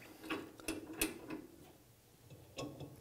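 A Woodpeckers Pollygauge angle gauge gets locked into position with a few faint, close metallic clicks and ticks, quiet and brief, with no speech.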